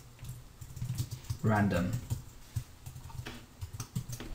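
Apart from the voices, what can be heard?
typing on a computer keyboard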